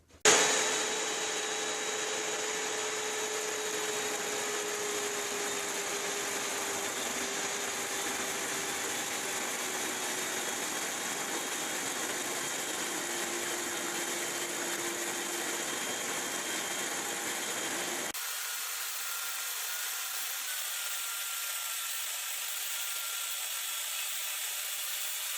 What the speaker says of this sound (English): what I'm going to do is demonstrate this on some square stock today with a skill saw